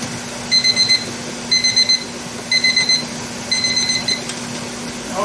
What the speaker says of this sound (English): I'll bring you back when the timer's about ready to go off.